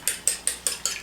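Two eggs beaten in a bowl with a utensil, five evenly spaced sharp clicking taps in quick succession, close and alone.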